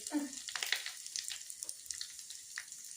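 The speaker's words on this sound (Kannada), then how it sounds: "ಫ್ರೈ ಮಾಡ್ಕೊತೀನಿ ಗೋಡಂಬಿ ಫ್ರೈ ಆಗ್ಯಾವ ನೋಡ್ರಿ" Cashews frying in a pan for sweet pongal give a soft, steady crackle with faint spattering, quiet and close, alongside a few light clinks and stirring sounds.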